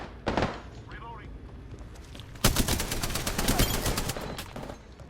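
Gunfire in the video game Apex Legends: a short burst near the start, then a long stretch of rapid, loud automatic shots, with voices talking over parts of it.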